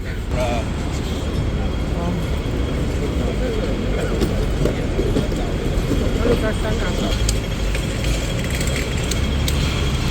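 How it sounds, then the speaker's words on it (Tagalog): A Hong Kong tram headed toward Admiralty rumbles along with a dense, steady low mechanical drone and street noise, while people's voices murmur throughout. "Yan ako sasakay ng tram. Tram to Admiralty."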